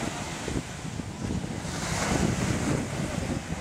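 Wind roaring with wave wash and a rushing, flapping texture of a fluttering spinnaker on a racing boat during a regatta in Muscat, Oman, fairly loud and continuous.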